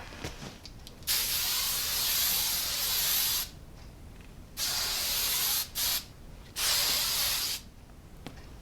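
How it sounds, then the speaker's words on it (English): Three long bursts of TRESemmé hairspray hiss from an aerosol can onto hair, near and steady, with brief pauses and one quick short spurt between them, and no talking. "I'm going to hairspray my hair with a TRESemmé hairspray"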